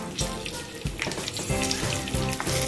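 Red chilies, bird's eye chilies and other peppers sizzle and crackle in hot oil in a pan, with irregular pops and spatters over a steady frying hiss, close and fairly loud.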